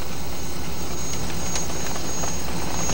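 A Meadowlark light airplane's engine gives a steady, loud, close drone with a deep low rumble under broadband roar, holding even throughout with no voices.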